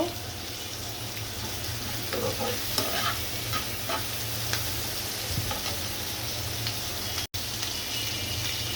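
Onion and shrimp frying in a pan, a constant close sizzle with scraping stir strokes and occasional clinks, a brief cut near the end, no voices.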